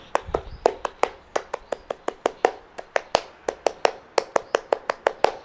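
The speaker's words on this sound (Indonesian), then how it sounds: "2 kali tepuk pramuka." Scout (Pramuka) rhythmic clapping sounds twice as a crisp run of about two dozen sharp, evenly spaced hand claps in a patterned beat, close and fairly loud, with no talking over it.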